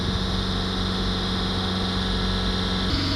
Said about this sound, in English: we'll hold the revs up around 3000 RPM